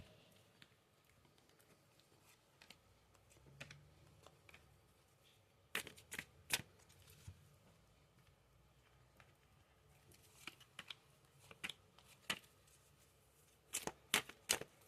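Tarot cards being shuffled in a quiet room, soft rustling at first, then several sharp riffles and snaps in short bursts, fairly close.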